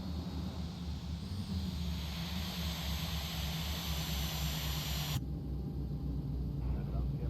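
Simulated Boeing 737 engines spool down in X-Plane 12, a steady low turbine drone with a high whine that cuts off abruptly partway through, leaving a quieter hum.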